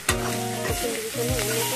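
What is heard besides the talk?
frying kuchia eel in a pan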